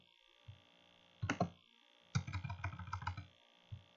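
Several bursts of quick computer keyboard key clicks, a short pair then a longer rapid run, close and clear in an otherwise quiet room.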